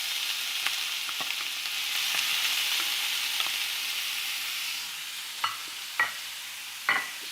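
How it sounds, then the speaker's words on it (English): Onion fries in a pan with a continuous bright sizzle that eases slightly partway through, followed by a few sharp spatula knocks and scrapes near the end. "now we're gonna put our onion inside the pan"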